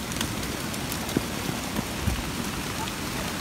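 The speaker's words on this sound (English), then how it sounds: "there's like good sized hail coming down" Good-sized hail coming down on hikers outdoors, a steady dense patter with a few sharper impacts standing out, alone without talk.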